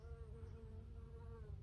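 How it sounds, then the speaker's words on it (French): A buff-tailed bumblebee forages on oregano flowers outdoors, its steady low buzzing wing drone carrying on without a break, close and fairly loud, with no speech. "voilà, le bourdon qui butine l'origan"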